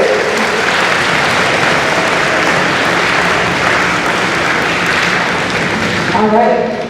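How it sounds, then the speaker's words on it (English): Loud, close applause rings out at a middle school concert for young band students, a steady dense clatter that tapers near the end as a voice begins to speak. "let's give them a round of applause"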